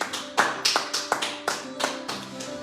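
A church congregation claps during a service, giving about a dozen sharp, separate claps and taps in an uneven rhythm that is close and moderately loud, with no voices over them.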